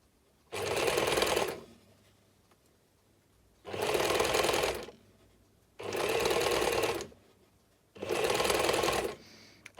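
Sewing machine stitching a bound edge along a curved fabric facing, heard as four loud, close bursts of rapid mechanical whirring, each about a second long, separated by quiet pauses.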